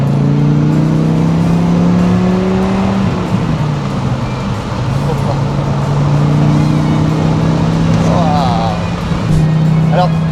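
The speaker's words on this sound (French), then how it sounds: "je vous laisse avec le son du moteur" A loud Dodge Viper GTS engine with a damaged clutch rumbles and revs steadily close by, its deep drone rising and falling over about ten seconds with no talking.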